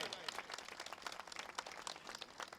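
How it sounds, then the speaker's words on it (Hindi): Audience applause at an honouring ceremony in Mitathal, Haryana, where a singer is crowned with a silver crown; dense, steady clapping from a crowd fills the moment, with faint voices mixed in. "जोरदार तालियों से स्वागत किया जाए।"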